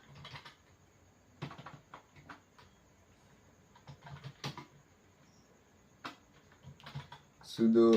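A short terminal command is typed on a laptop keyboard, giving scattered quiet key clicks in small clusters with pauses between them, ending in a brief louder tonal burst.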